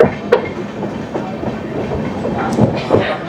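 An Amrit Bharat Express train on the Sealdah–Varanasi route runs along the rails near Kashi station, with a continuous rumble and rhythmic clickety-clack of wheels over rail joints, heard loud from inside the carriage.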